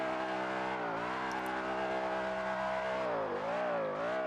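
A BMW M5 E60 with a locked differential drifts hard in Assetto Corsa, its engine holding a loud, steady high-revving drone, with the pitch dipping and rising briefly near the end as it slides.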